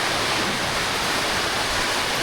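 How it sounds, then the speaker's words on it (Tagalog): Heavy rain falls in a steady, unbroken hiss and roar, loud and close, like water pouring down without pause; no one speaks over it. "Ang lakas ng ulan."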